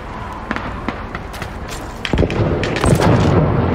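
Rifle fire at a shooting range in the Call of Duty 2 Soviet Red Army training mission, with a few sharp booming shots and thuds that thicken toward the end, close and loud.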